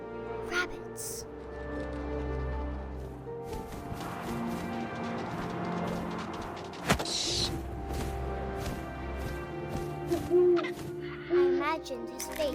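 An owl hoots in the video game What Remains of Edith Finch, the call set amid a constant ambient bed of wind and music with creaks and small bumps, and no talk.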